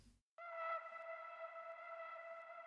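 A Serum synth preset called Monkey Call rings out with a sustained, harmonically rich tone that lingers under long delay and reverb tails after a brief silent gap, fairly quiet and alone.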